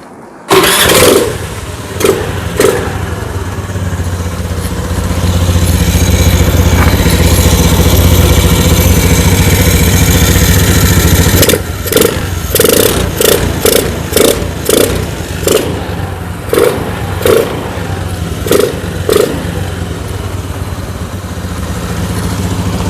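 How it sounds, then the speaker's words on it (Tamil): A Honda Dio scooter running without its air filter starts up and settles into a loud, steady idle, then gets a rapid series of sharp throttle blips near the end, close up with no talking. "இப்போ வந்து நான் ஏர் ஃபில்ட்ரு இல்லாமல் வந்து டியோவை ஸ்டார்ட் பண்ண போகிறேன்."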